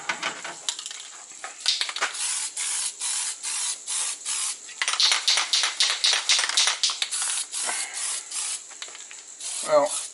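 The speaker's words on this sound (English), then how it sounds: "paint this one just to see how this spray putty works on it" Spray putty from an aerosol can sprayed onto a plasma rifle prop in repeated short, close bursts, each a sharp hiss separated by brief pauses, with faint rubbing sounds between bursts.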